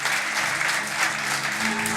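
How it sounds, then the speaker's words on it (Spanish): A church congregation applauds steadily throughout, a dense even wash of clapping with a faint voice underneath. "Denle ese aplauso al Señor."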